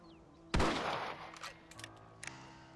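Rifle shots in Red Dead Redemption: one loud, sharp blast with a reverberating tail, followed by a few fainter pops and clicks.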